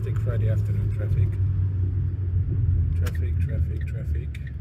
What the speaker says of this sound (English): Yes, fantastic Friday afternoon traffic.